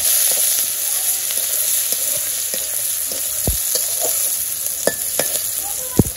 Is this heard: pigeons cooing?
no